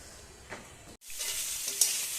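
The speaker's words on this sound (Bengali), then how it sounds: "এখন সব ভাজে দিচ্ছি, ক্যাপসিকাম, গাজর, বিনস এগুলো সব ভাজা হচ্ছে" Capsicum, carrot and beans fry in hot oil for fried rice, giving a bright, steady sizzle that flares loudly after a brief gap, with a few stirring scrapes and no talking.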